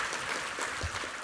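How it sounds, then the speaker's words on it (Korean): A church congregation applauding after a soprano's worship song fills the space with an even, sustained wash of many hands clapping together at a moderate distance. "한번 감사와 격려의 박수 한번 드리겠습니다"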